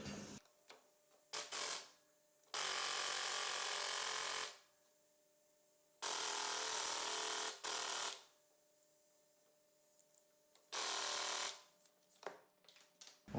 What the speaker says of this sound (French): Je vais réessayer de démonter donc l'écrou avec un outil un peu plus puissant, c'est-à-dire une déboulonneuse.